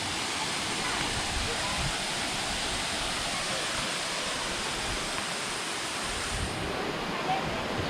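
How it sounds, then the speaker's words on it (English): Roaring waterfall at Erawan Waterfall in the jungle of Kanchanaburi, a steady broadband wash of falling water that stays loud and even throughout with no break. "another stage of the waterfalls to look at"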